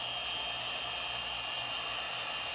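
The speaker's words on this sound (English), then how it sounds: "The tip on this heat gun can get as hot as 1500 degrees." Heat gun blowing hot air in a steady, continuous broadband rush, close and unbroken, with no talking.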